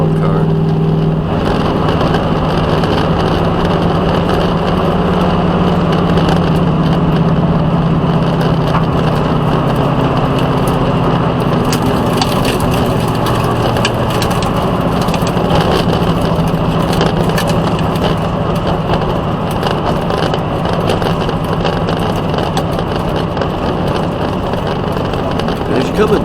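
A NASCAR ride-along car running at Michigan International Speedway, a loud continuous engine roar with a steady drone that stays constant throughout, heard from close by.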